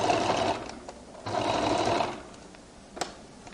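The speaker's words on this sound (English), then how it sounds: "I roll it open and I now begin to stitch." A sewing machine stitches a skirt seam in two short bursts of rapid, even whirring, with a pause between them and a faint click near the end.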